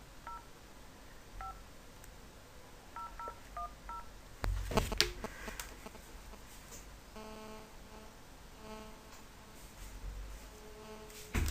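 A telephone dialing DTMF tones to place a call, with sequences of short clean beeps in quick bursts, a brief clatter midway, then a ringing tone pattern, heard close and alone.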